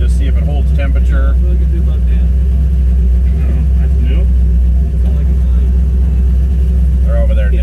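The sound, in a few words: blown LS engine car driving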